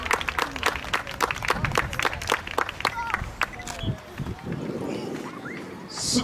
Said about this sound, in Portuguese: um aplauso para o João Brito